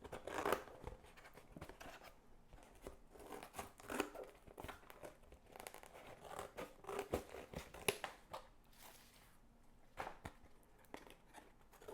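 Scissors cut cardboard shapes in repeated snips and crunches with a rustling, irregular rhythm. The cutting is close but faint.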